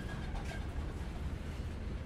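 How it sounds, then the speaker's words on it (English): A train rolls steadily along the rails, giving a continuous close rumble with faint clatter and no pauses or voices. "As the train kept moving forward"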